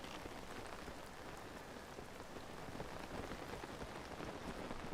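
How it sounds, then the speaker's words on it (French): Steady rainfall in the video game Zelda Tears of the Kingdom, a dense, even hiss of drops on surfaces that continues unbroken throughout. "Mais la pluie n'aide pas."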